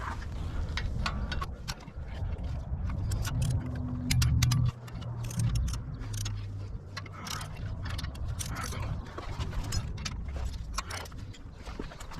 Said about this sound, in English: I'm torquing these T50s down to 46 foot-pounds